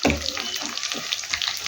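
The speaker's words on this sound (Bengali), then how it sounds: "এবার এটাকে একটু জল দিয়ে নিয়ে নেবো।" Water splashes briefly into a tilapia fish curry paste, a short close pour over about two seconds.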